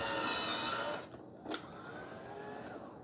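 A Roborock Saros 10R robot vacuum runs with a whirring motor hum, then a short mechanical whine and clunk as it lifts its mop pads, after which a quieter hum continues close by, with no talk.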